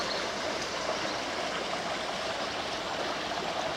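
The River Lark flows steadily in the Suffolk countryside near Fornham St Martin, a constant broadband rush of moving water, fairly soft and even, with no voices over it.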